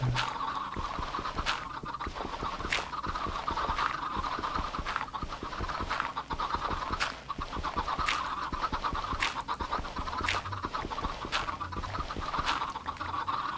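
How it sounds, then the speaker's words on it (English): Repetitive, slightly synthetic clucking and squawking of several Minecraft chickens, looping steadily with periodic sharper calls over a constant background hum. "Man, these chickens are loud."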